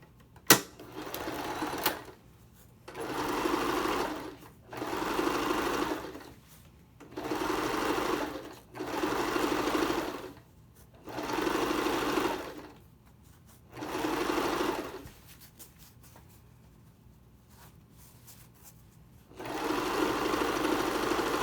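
A sewing machine stitches a Boomerang Bag in repeated bursts of steady mechanical whirring, about eight runs of roughly a second or two each separated by short pauses, close and clear with no talking.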